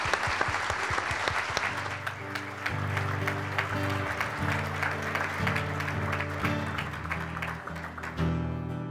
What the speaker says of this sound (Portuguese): Uma salva de palmas para o juiz Sérgio Moro.